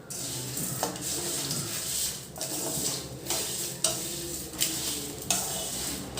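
A mix of ingredients is stirred together in a pan and only briefly heated, giving a steady close sizzle with regular spoon scrapes and knocks roughly every second or so; no one speaks.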